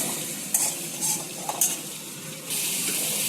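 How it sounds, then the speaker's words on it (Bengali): Fish fries steadily in a pan on a home stove, a soft continuous sizzle broken by a few sharp scraping clinks as the pieces are turned. "এখানে মাছ ভাজাটা একটা হয়ে গেছে, পাল্টিয়ে দেবো। ভালো করে একটু ভেজে নিতে হবে।"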